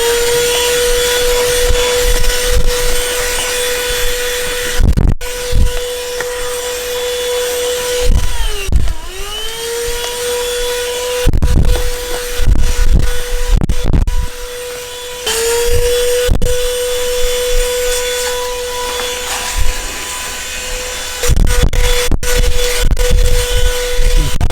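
A ThisWorx 12V handheld car vacuum cleaner runs at the driver's seat with a steady, loud motor whine. Its pitch dips briefly once, and repeated thumps and scraping break in as it is pushed across the carpet.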